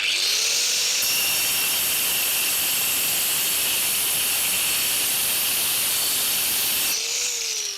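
A HAUER cutting disc on an angle grinder slices through granite: the motor whines up, then a loud, harsh, steady hiss of abrasive cutting runs for about six seconds before the grinder winds down.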